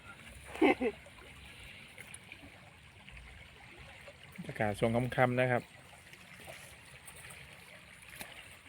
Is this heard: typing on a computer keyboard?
no